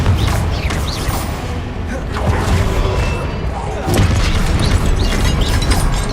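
A Confringo blasting spell explodes in Hogwarts Legacy, a dense, loud rumbling boom that swells twice and sustains over a busy game soundscape, with speech-like voices mixed faintly in the din.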